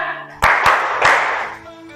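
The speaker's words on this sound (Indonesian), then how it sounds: "Tepuk 1, tepuk 2, tepuk 3, tepuk 3" Three sharp hand claps in a quick, uneven rhythm, loud and close, with a brief hum between them.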